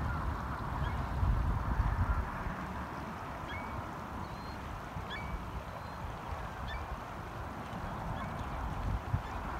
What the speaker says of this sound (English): Look to the left of the logs, sitting ever so still, a goose on her nest.